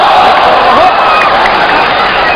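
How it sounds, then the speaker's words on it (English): A boxing arena crowd erupts in loud, sustained cheering and shouting during the ninth round of the Zou Shiming vs Amnat Ruenroeng fight, a dense, close wall of voices. "And the crowd comes to life"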